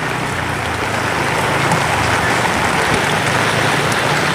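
Heavy rain pours outdoors during flooding, a loud, dense and steady wash of falling water throughout with no voices.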